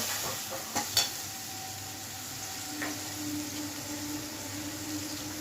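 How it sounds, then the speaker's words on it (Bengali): Ginger paste and spices sizzle softly in a pan while being stirred, with a couple of sharp utensil knocks early on and a low, steady frying hiss throughout. "এক চামচ মতো আদা বাটা দিলাম দিয়ে এটাকে আমি ভালো করে কষিয়ে নিচ্ছি"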